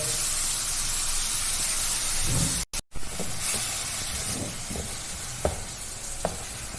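Leafy vegetable thoran fries in a pan with a steady, close hiss and sizzle, broken by a brief dropout and a few soft clinks and taps.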